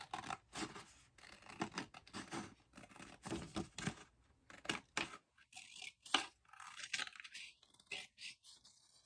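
Paper from a 12x12 pad being cut for a flip flap folio journal, with repeated crisp snips and rustling scratches close by, some sharper clicks toward the end.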